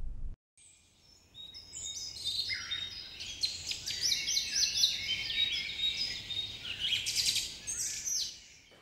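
Many birds gather at an outdoor feeder, giving a busy stream of high chirps and tweets that overlap continuously over a soft background hush, with no voices.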